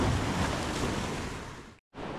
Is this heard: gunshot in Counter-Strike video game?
no